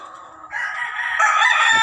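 A rooster, a fighting cock, crows once in a single clear call that rises and stretches out, loud and near with nothing else over it.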